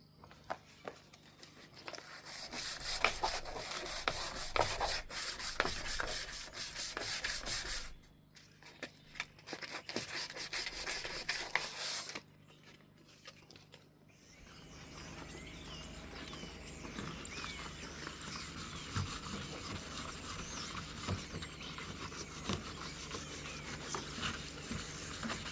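Hand sanding of a car door with 320 grit sandpaper, steady scratchy rasping strokes at close range, continuing for the whole stretch with brief pauses between passes.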